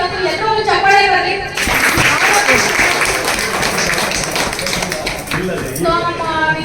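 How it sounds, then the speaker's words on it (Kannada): An audience applauds at a no-fire cooking competition, dense clapping that swells in the middle and then fades as voices talk before and after it. "ಎಲ್ಲರೂ ಚಪ್ಪಾಳೆ ಬರಲಿ"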